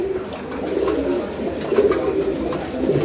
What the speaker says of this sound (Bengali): এটা কিন্তু গড়রা কবুতর।